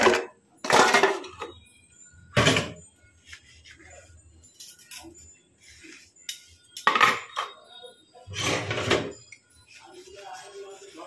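Dishes and a cooking pot being washed in a home kitchen, with sparse clinks and clatters of metal utensils coming in short bursts, close by, between quieter stretches.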